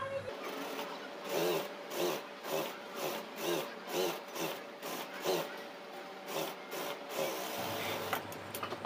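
Sewing machine stitching a folded band collar in a steady series of short rhythmic bursts, close and fairly loud, with no talk.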